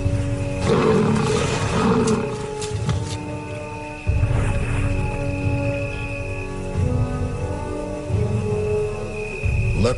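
Male lions roaring in African wild land, deep repeated roars building and overlapping with grunting pulses, loud and close against a faint insect and rain-like background.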